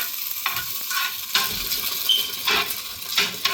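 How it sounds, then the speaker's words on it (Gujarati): Ghee poured around the edges of a sweet frying in a hot pan outdoors in a garden, giving a steady sizzle with a few louder crackling bursts and light scraping. "થોડુંક ઘી એમ આપણે બધી પટ્ટે નાખી દેવાનું ગોળ પટ્ટે"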